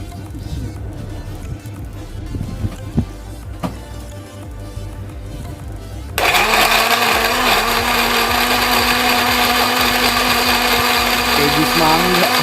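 An electric blender churns young coconut into fishing bait for carp. It starts partway through as a loud, steady motor whir over the quieter room sounds before it.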